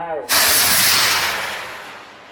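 Bamboo rocket launching at the Nong Khai rocket festival in Thailand: a sudden loud rushing hiss bursts in after a shouted countdown and then slowly fades as the rocket climbs away.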